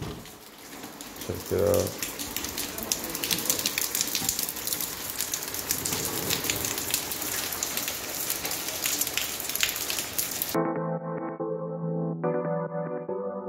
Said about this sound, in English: So in Berlin, it's raining.